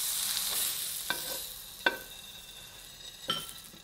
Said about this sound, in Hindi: इस तरह आपने तमाम सैंडविच सेक लेने हैं।